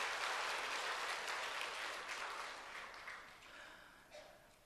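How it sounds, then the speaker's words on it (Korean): Audience applause in a Korean church service, a full wash of clapping that starts strong and slowly fades over several seconds. "영광의 박수 드리겠습니다"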